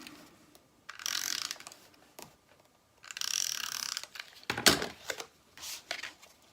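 Short bursts of clicky ratcheting from an adhesive tape runner, several runs of rapid mechanical clicks separated by pauses, close and fairly quiet, with no talking.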